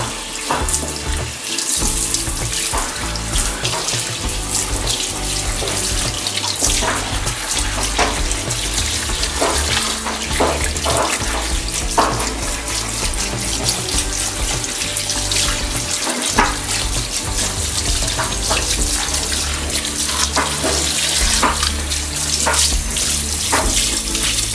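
Water from a tap runs steadily and loudly over a golden retriever puppy being rinsed in a sink, a continuous splashing stream with small gurgles, no talk.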